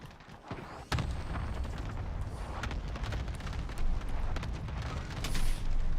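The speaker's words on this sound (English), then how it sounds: "Grenade out." A grenade explodes in a video game with a sharp, loud blast near the start, followed by a dense rumble of ongoing gunfire and battle noise.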